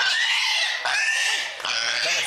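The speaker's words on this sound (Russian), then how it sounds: "Это свинка маленькая." A small pig oinks and squeals in a loud, close, high-pitched series of three drawn-out cries with short breaks between them.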